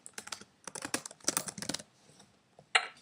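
Quick clusters of clicking keystrokes on a computer keyboard, close and fairly quiet, in short rhythmic runs with brief pauses and a sharper final tap.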